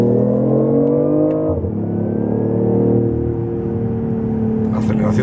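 A BMW i8 accelerates hard, its engine note rising steadily and loudly, dipping briefly as it shifts and then pulling on, with a brief burst of talk near the end.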